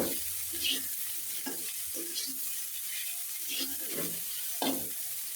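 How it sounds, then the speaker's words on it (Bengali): Potatoes, tomato, onion, ginger and garlic fry together in a pan, giving a steady close sizzle broken by several scraping stirs of a utensil at irregular intervals. "এখন আলু, টমেটো আর যে পেঁয়াজ, আদা, রসুন সব একসাথে ভালোভাবে একটু ভেজে নেব।"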